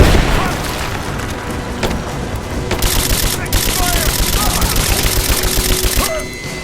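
Sustained video game gunfire crackles through an abandoned mine firefight, a dense fusillade of fast shots and booms running almost throughout with brief pitched whines, mixed with faint voices.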